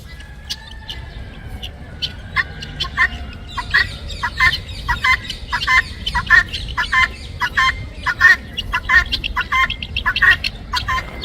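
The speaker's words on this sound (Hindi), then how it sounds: "डोलमाबाशी के शरीर टर्की, इनमें से एक आपसे भी कुछ कह रहा है, जरा सुने।" Turkeys and other fowl on the grounds of Dolmabahçe Palace in Istanbul call repeatedly, giving short clucking and gobbling bursts at irregular intervals over a steady outdoor background.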